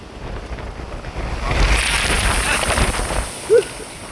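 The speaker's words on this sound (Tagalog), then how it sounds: "grabe yung lakas ng hangin" Strong wind buffets the microphone in heavy gusts during a storm with large waves, with surf and water noise beneath and a brief higher tone near the end.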